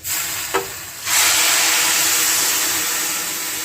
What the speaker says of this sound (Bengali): যতটা ডালিয়া দেব তার ডবল জল আমি গরম করে রেখেছি, সেটা আবার আস্তে আস্তে ঢেলে দেব।